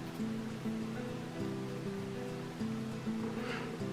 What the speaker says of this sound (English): Flushing it out, especially if the pen has been clogged.